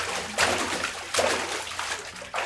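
Real water waves break and splash nearby in a few distinct washing bursts, each surge rising and fading over a steady watery background.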